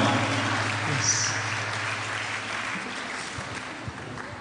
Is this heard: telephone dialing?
no